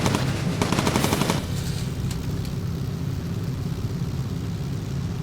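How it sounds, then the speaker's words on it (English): Rapid machine gun bursts from a bomber's gunner turret in the aerial combat game Bomber Crew, a dense rattling volley for the first second and a half that then drops into a steady engine-like drone. "Now, the gunner's able to shoot at it."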